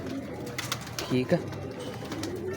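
A kept pigeon gives a brief low coo in a loft setting, heard close by beneath someone talking.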